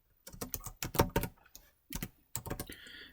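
Name being typed on a computer keyboard: quick bursts of close, crisp key clicks in uneven clusters, separated by short pauses, with no talking.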